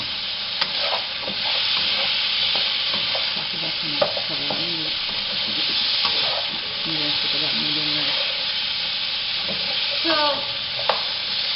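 Meat stir-frying in a wok for an allergen-friendly stir fry, a steady loud sizzle with stirring scrapes and clatters throughout, while a person talks over it.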